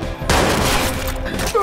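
Gunfire in a video game, a sudden loud burst of overlapping shots that keeps up for over a second in a noisy mix, with a voice briefly audible near the end.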